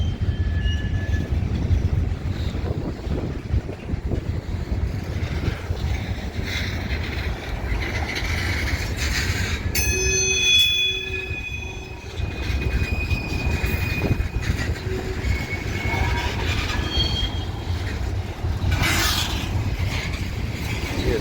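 A long manifest freight train rolls past in Minneapolis with a continuous loud rumble and clatter of cars, plus occasional high squeals from wheels or brakes.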